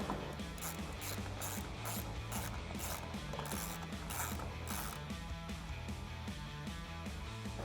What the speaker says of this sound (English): we can start to tighten them down with the same 10mm socket